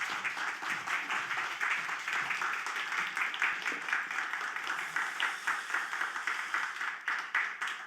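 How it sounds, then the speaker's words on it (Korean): Warm applause from a church congregation welcoming a guest preacher to the pulpit at a Sunday service, steady clapping at moderate distance lasting throughout without a break. "우리 공동체가 보낼 수 있는 가장 뜨거운 따뜻한 그 박수로 함께 환영하도록 하겠습니다"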